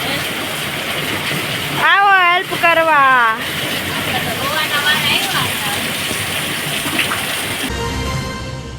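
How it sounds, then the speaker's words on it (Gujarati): Heavy downpour in Santrampur taluka, Mahisagar district, Gujarat, heard as a steady broadband rush of rain and running water, with a voice speaking briefly over it. "મહીસાગર જિલ્લાના સંતરામપુર તાલુકામાં ધોધમાર વરસાદ"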